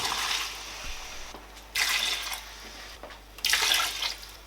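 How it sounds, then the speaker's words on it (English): Water is poured into a pot of chicken cooking on the stove, a soft splashing pour that swells in several bursts with brief pauses between them, close by and with no talking. "So I'm going to add water in it."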